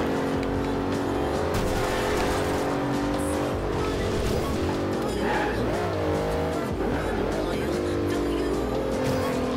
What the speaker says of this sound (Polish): jak widzą, jak mój Bentley przyspiesza